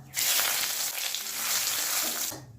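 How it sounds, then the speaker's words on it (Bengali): Whole cumin seeds, dry red chillies and bay leaves hitting hot oil for a fish curry, a sudden bright sizzle that bursts up, crackles steadily for a couple of seconds, then cuts off. "এবার এর মধ্যে আধা টেবিল চামচ গোটা জিরে ফোড়ন দিয়ে দিলাম দিয়ে দেবো দুটো শুকনো লঙ্কা ফোড়ন আর দিয়ে দেবো দুটো তেজপাতা"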